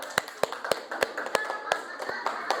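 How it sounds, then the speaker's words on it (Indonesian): A classroom group claps in unison for the third presenting group, about a dozen sharp, evenly spaced hand claps in a steady rhythm, close and distinct against a quiet room. "Tepuk tangan lagi untuk kelompok 3"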